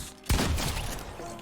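Gunfire in a shooting video game starts with one sharp, loud report. Clattering shots and game noise follow for about a second.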